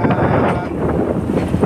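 Heavy wind buffets the microphone in a continuous loud rumble, rough and gusty throughout.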